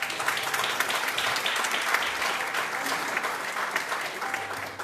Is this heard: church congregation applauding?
yes